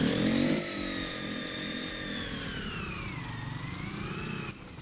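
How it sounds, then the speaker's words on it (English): A rock crawler engine in the building game GearBlocks revs high in first gear, a loud, steady buzzing drone whose pitch sags and rises again before dropping off, with no talking. "while in first gear, it's really easy to redline the engine"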